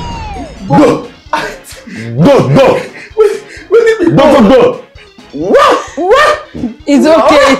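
A man imitates a barking dog with his voice, giving a loud, close series of about eight rough bark-like shouts in uneven bursts with short gaps between them.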